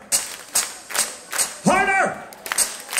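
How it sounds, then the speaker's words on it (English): A concert crowd at a club show claps in sharp, evenly spaced beats, about seven claps, while a voice sings or talks in the middle. "When I sing clap your hands, y'all are gonna clap your hands like this."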